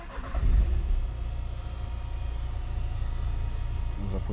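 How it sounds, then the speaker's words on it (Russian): The 1.5 K9K diesel engine of a 2017 Renault Megane with an EDC automatic turns over with a brief thump, then settles into a steady low idle rumble nearby. "Запустился автомобиль"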